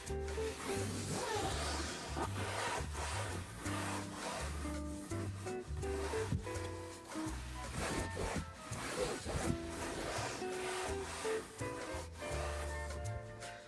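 A rag rubbing Griot's Garage interior detailer into a car dashboard makes soft, steady back-and-forth wiping strokes in a repeating rhythm, close and quiet, over faint background music with no talking.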